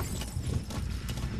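Horse hooves clip-clop on the ground in the video game Metal Gear Solid V, a quick, loud, muffled run of thudding steps over a heavy low rumble.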